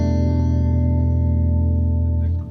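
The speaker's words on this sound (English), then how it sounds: "is that modulation that I hear, is that just on the delay or also on the reverb?" Electric guitar run through delay with modulation and chorus, a sustained shimmering chord that holds steady and loud before fading slightly at the end, with no voices.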